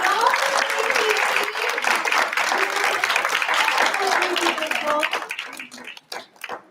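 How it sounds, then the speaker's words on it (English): Audience applause at a Culture Fest for Atlanta Direct performers, steady crowd clapping with voices mixed in, fading out into scattered individual claps near the end. "Let's give another round of applause for part of the Atlanta Direct"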